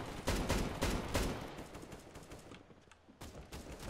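Bursts of rapid gunfire in Counter-Strike: Global Offensive Arms Race mode, several sharp volleys clustered at the start, a brief lull, then another burst, heard alone without talk.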